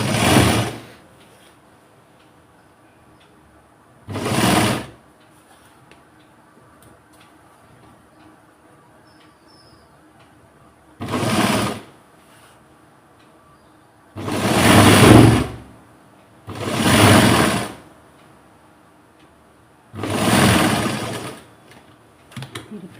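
A sewing machine stitches a blouse in six separate loud bursts of rapid whirring, each a second or two long and close by, with near-silent pauses between them.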